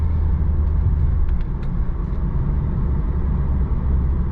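A 2015 Lexus RC350 F-Sport driving on the road, a steady loud low rumble of engine and road noise heard from inside the cabin.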